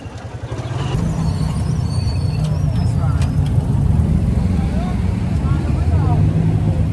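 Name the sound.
motorized tricycle ride in traffic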